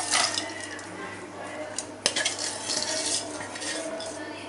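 Jaggery and a few spoonfuls of water being stirred in a pan while making peanut chikki, with a spoon scraping and clinking against the metal in a steady run of close, busy scraping, including one sharper knock.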